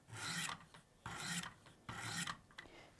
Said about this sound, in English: using your highest grit diamond stone and the widest angle that you can on your sharpener, you're just going to do a couple light strokes